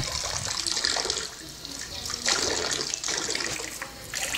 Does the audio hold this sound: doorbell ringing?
no